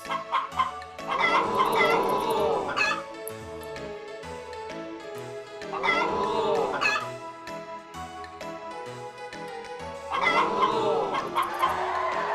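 A rooster in the video game Harvest Moon: Back to Nature crows three times at roughly even intervals, each call rising and falling, over a busy layered background of music and game effects.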